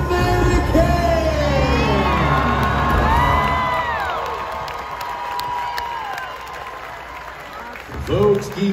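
Loud crowd applause mixed with cheering, whoops and shouting, with a voice calling out over it, tapering slightly before a renewed burst near the end.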